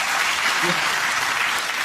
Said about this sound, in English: I love the way that they clapped at different times, depending on how quickly they got it.